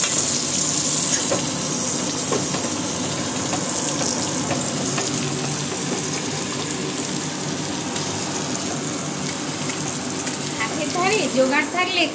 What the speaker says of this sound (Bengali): এই যে দেখো, মাটন রান্না হচ্ছে